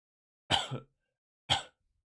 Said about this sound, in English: I'm sorry for the coughing and stuff though